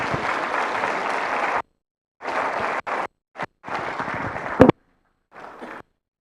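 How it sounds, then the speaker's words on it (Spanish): Bursts of crowd applause at a church Bible seminar, starting and stopping several times with short silent gaps and a sharp thump near the end. "Vamos a aplaudir una vez más por agradecimiento"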